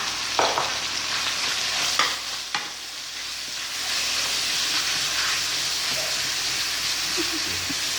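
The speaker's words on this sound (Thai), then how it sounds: "เราก็จะตามด้วยหมูบดนะคะ ลงไปผัดต่อนะคะ" Minced pork sizzles and hisses steadily in a hot wok, with a few sharp scraping stirs near the start.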